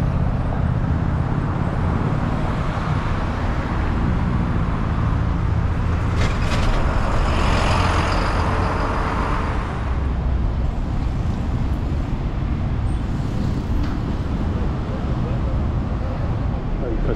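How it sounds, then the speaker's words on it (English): Steady city traffic on Paseo de Reforma in Mexico City, with red buses and cars passing in a continuous roadway roar and a passing hiss of brakes midway, heard from the street. "there's tons of these red buses"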